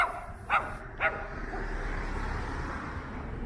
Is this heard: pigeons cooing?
no